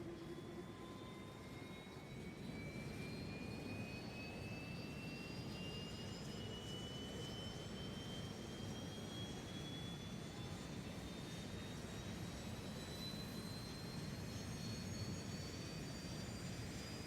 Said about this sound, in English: flap open, APU start